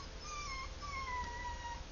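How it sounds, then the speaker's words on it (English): A dog whimpering in a living room, faint high thin whines drawn out in two or three descending cries, distant and quiet over low background rumble. "That was my dog."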